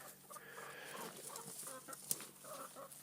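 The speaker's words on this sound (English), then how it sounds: "Give these to the chickens." Chickens cluck softly in a high-altitude backyard garden, a steady low murmur of fowl with scattered short calls and one sharp peak, no talking.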